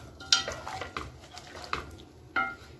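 Blanched vegetables, prepared without onion or garlic, being mixed with salt in a metal vessel, producing several soft scrapes and light clinks of a spoon at uneven intervals, close and fairly quiet.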